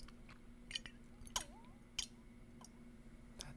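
The metal lid of a water jar is handled up close, producing a few sparse, sharp clicks and taps over a faint steady hum, with no talking.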